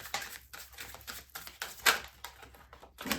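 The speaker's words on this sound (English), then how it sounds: "I'm shuffling for the theme of their month" Tarot cards being shuffled, a soft irregular patter of riffling and tapping with a few sharper snaps, quiet and close with no voice.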